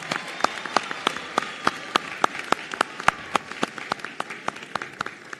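At a nursing graduation ceremony, a small audience applauds the graduating students with scattered, distinct handclaps in an uneven rhythm over a soft room background.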